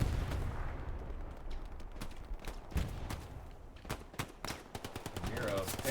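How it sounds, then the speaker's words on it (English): Dense World War II video game combat with rapid rifle and machine-gun bursts, sharp single shots and rocket launches, crackling at a distance in irregular flurries, with faint voices underneath. "sending the rockets down range"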